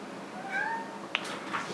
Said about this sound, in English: Shut up, cat, you've been fed.